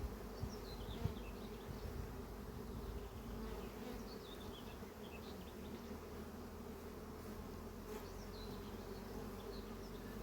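Honeybees hum steadily at an open hive during a swarm-prevention inspection, a dense continuous buzz that stays even and close throughout, with no voices.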